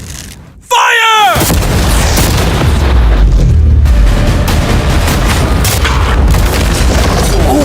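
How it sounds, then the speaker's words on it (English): Cannons fire cannonballs at a new yacht, opening with one loud deep boom that settles into a sustained heavy roar and rumble of ongoing impact and destruction, close and dominant throughout. "we're about to fire the cannons at your new yacht"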